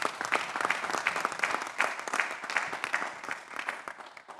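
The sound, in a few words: assembly members applauding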